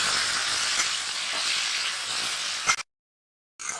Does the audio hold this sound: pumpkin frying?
yes